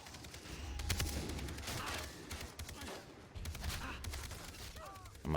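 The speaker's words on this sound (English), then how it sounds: "who the fuck is shooting at me now?" Gunfire in Far Cry 3, a sustained clatter of rapid shots that dips briefly and then resumes, fairly loud against a busy outdoor game backdrop.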